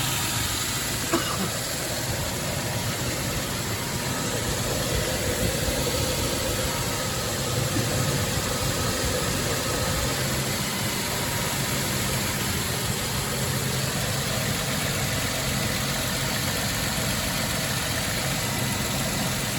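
A 2006 Toyota Tundra truck engine idles at close range, an even low rumble with a constant hiss that continues unchanged throughout.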